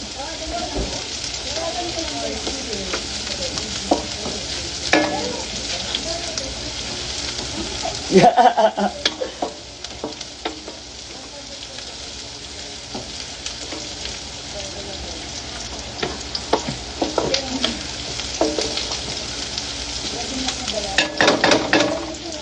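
Marinated food frying in a pan hisses and sizzles continuously for over twenty seconds, with scattered louder crackles and spatters. A voice is faintly present at times.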